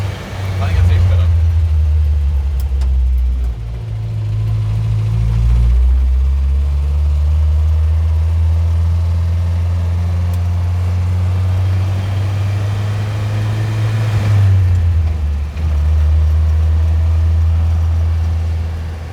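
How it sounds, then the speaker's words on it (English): A Land Rover Series engine runs and idles at a low, steady rumble, its pitch rising and dropping briefly with small revs before settling back to idle, while people talk over it. "It runs and idles, doesn't stall out when you hit the brakes."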